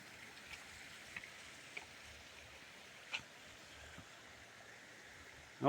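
Stream flowing in a city park, a faint steady wash of running water heard alone with a few small clicks and splashes.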